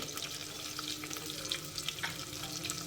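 Onions sizzle in a hot pan for a Kannada home-style carmine fish curry, a steady close crackling hiss with small stirring clinks throughout.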